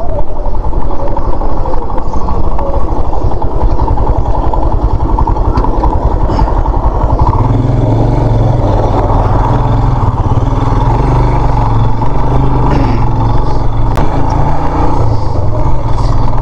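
Traffic rumbles along the Mahendra Highway (Asian Highway 2) in Nepal, a loud, constant roar of engines and road noise heard close from a moving vehicle, with a deeper engine drone building partway through.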